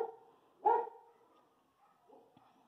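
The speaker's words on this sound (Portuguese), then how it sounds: "não se incomodem com o cachorro." A dog gives one sharp, fairly close bark in a quiet indoor room, followed by faint rustles and soft knocks against a low background hum.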